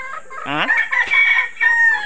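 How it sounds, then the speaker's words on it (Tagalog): A rooster crows loudly and close by, a harmonic rising call followed by a long sustained note, with a second shorter crow starting at the end. "Manghingi na ng pagkain yung mga manok"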